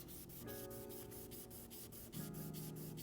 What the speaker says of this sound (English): you just go in dry and just start agitating, going back and forth motions